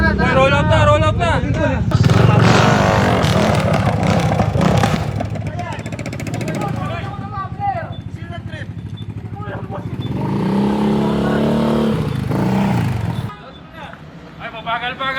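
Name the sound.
motorcycle engine revving with power pipe exhaust, no muffler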